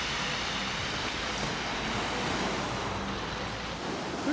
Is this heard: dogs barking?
no